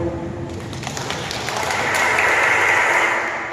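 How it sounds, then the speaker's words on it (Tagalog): A congregation at a Catholic charismatic prayer meeting applauds. The clapping is a steady, fairly loud wash that swells midway and holds. "Palapakan po natin ang kapatid."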